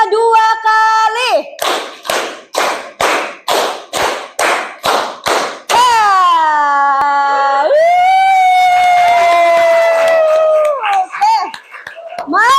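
A school class claps in a steady rhythm, about ten evenly spaced bursts, then voices break into drawn-out, rising and falling shouts.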